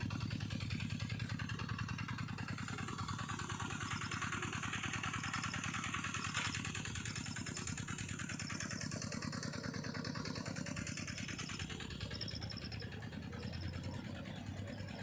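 A tractor engine chugs steadily throughout while levelling a flooded rice field, a continuous throbbing drone with a faint whine rising and falling over it, nearby and unbroken.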